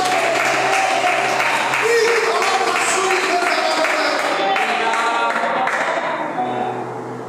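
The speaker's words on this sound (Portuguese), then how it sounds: "glorifique e aplauda o nome do Senhor essa noite" A church congregation applauding during a service, with dense clapping over several seconds mixed with voices and music, fading slightly at the end.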